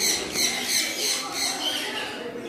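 Birds squawk repeatedly at an aviary park in the hill station of Yercaud, Tamil Nadu, giving a loud, busy run of harsh, overlapping calls heard close, with some background voices.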